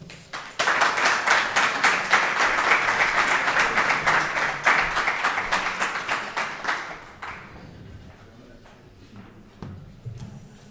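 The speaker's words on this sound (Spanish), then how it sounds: "Un aplauso." An audience at a talk on conspiracies breaks into loud, dense applause that holds for several seconds, then thins out into a few scattered claps as it fades.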